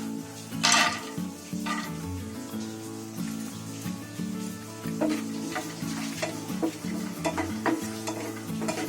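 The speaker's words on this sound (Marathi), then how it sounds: "पिस्ता पण त्याच्यात गरम करते." Pistachios sizzle and fry in a pan while being stirred, with steady crackling and repeated clinks and scrapes of a utensil against the pan, close and continuous throughout, no talking.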